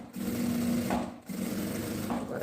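A sewing machine hums and rattles steadily as it stitches a seam on a fabric sewing case, running in two long passes with a brief pause between them, close and clear without talk.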